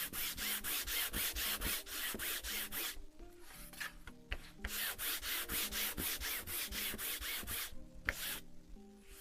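A sandpaper block is rubbed across an acrylic painting in steady back-and-forth strokes, close and rhythmic, with a couple of brief pauses between runs.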